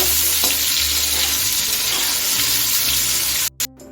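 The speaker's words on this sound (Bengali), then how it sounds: "কড়াইতে পরিমাণ মতো সর্ষের তেল দিয়ে গরম করে নিয়েছি এখন আমি আলুগুলো ভেজে নেব" A close, steady roar of sizzling and spitting comes from potatoes frying in hot mustard oil in a kadai, running unbroken and loud before cutting off abruptly in short gaps just before the end.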